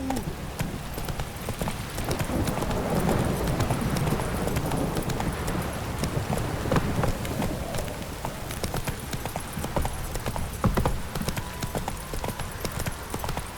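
Horse hooves clip-clop steadily and close in The Witcher 3, a continuous rhythmic trotting over a dense ambient game soundscape, with scattered brief voice sounds in the background.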